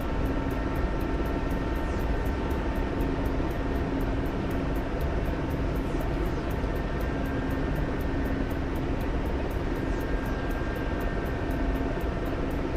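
Steady, continuous drone of C-130J Super Hercules turboprop engines in a video game, a constant close hum with a sustained tonal whine and fine rapid propeller flutter, unchanging throughout with no talk.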